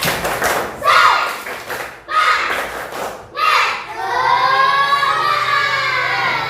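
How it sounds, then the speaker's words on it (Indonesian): Schoolchildren in an Indonesian classroom do a rhythmic spirit clap, short bursts of patterned clapping and thumps separated by brief pauses, then a stretch of children's chanting voices. "Tepuk semangat."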